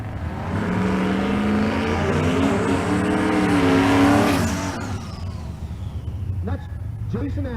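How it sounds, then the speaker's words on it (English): A Fox Mustang drag car from Oklahoma revs hard at a Kearney, Nebraska race-week event and roars loudly before tailing away, as a commentator talks over the engine throughout. "Here's Melissa Dykage in the right lane. Dykage the Fox Mustang"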